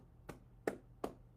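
Hands pat lightly on the body during a self-massage, four soft, evenly paced slaps with a dull, muted tone, fairly quiet and close with no talking.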